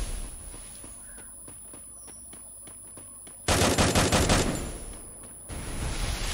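Free Fire match gunfire: evenly spaced single shots crack out, then a loud sustained automatic burst, a short pause and another rapid burst, with no voices over them.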